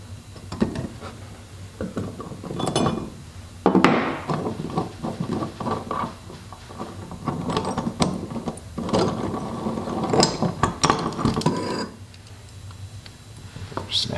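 A ratchet loosening a fastener during a D-Type overdrive rebuild clicks in close, repeated bursts of mechanical ticking with metallic clatter between strokes.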